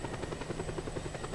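A helicopter's rotor thumps with a rapid steady chop and engine hum in the open-world action game Just Cause 2, close and constant with no talk.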